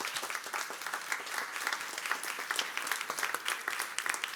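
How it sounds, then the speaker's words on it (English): An audience at a startup and business summit in Berlin applauds steadily, a dense, continuous crackle of many hands clapping throughout, fairly close and even in loudness. "This is your applause."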